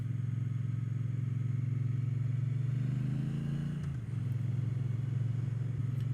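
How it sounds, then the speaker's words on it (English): Steady engine drone of a Triumph Bonneville T120 motorcycle cruising along narrow country roads in the Trough of Bowland, a continuous low rumble that dips briefly near the end, with no talk over it. "And what a perfect bike to do it on, the Triumph Bonneville T120."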